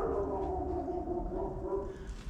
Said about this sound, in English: It's my neighbor's dog. He's being very talkative today.